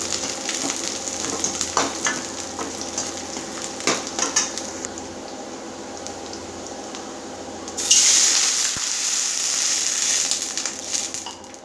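Continuous scraping and sizzling from a hot pan as semolina is stirred for upma, with clinks of a utensil; a louder hiss of running water joins near the end.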